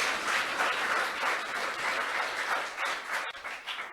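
An audience breaks into loud, sustained applause for a topper, a dense wash of clapping holding steady before thinning slightly toward the end.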